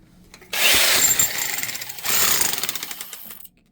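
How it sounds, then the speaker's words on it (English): A handheld jackhammer used to chip a large sapphire out of rock starts abruptly and rattles loudly in two close, rapid hammering bursts, with a short dip between them, before cutting off. "Let's get that jackhammer out."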